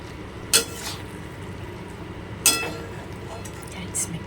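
A spoon stirs boiled sliced eggs into egg chicken bharta in a pan, giving two sharp metallic clinks a couple of seconds apart and a faint third tap over a quiet kitchen hiss.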